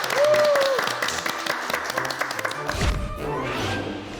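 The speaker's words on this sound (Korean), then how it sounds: "우리 모두 박수 한번 보낼까요?" Loud, dense applause from a classroom audience, steady clapping that fills the whole moment, with a brief voice or whistle-like tone near the start.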